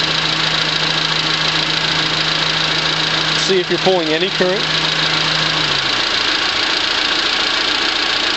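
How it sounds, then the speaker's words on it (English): A car engine fitted with a PWM-controlled hydrogen peroxide unit idles with a steady, low drone. Someone speaks briefly over it, and the drone cuts off near the end. "start up your engine"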